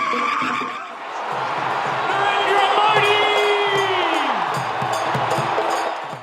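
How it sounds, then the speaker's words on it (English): A large arena crowd of about 20,000 cheers for Indian Prime Minister Modi at a community event in Sydney, a loud, sustained roar with whoops and rising shouts that swells and then holds steady throughout. "The crowds cheered for the Indian Prime Minister"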